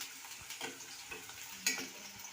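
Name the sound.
chopped onions and chili sizzling in pan for masala idli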